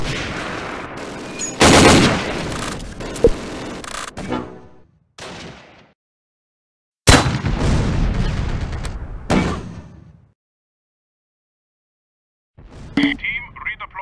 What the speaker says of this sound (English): Take cover! Taking fire!